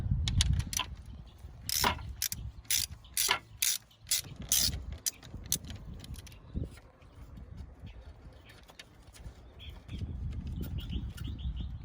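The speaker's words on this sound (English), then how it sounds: "we're going to remove the two 10mm bolts right here and right here that hold together the condenser and the radiator." A ratchet backs out the 10mm bolts joining the condenser and radiator on a 1998-2002 Mercedes-Benz E320 W210, giving close, uneven bursts of clicking and clanks, with birds chirping faintly in the background.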